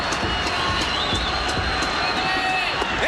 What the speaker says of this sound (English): First time tonight the crowd's been into this game